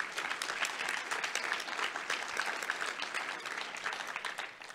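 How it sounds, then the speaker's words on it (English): Audience applause at a Federal Reserve Bank of Cleveland policy summit, a steady, dense wash of many hands clapping that holds evenly throughout and fades slightly at the end, with no talk over it. "Please give the speakers a round of applause."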